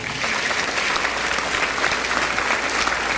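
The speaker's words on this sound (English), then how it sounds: "let's give a round of applause" Steady, loud applause from a large crowd, sustained evenly throughout with no pauses.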